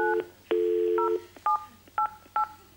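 A mobile phone dials a number, a string of about six crisp keypad tones with short gaps between them, close and clear, with no speech.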